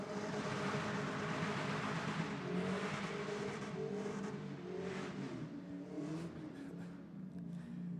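A drag car at Sydney Dragway on the burnout pad roars steadily at high revs with a rough, continuous engine drone and hissing tyre noise, loud and sustained before fading slightly toward the end.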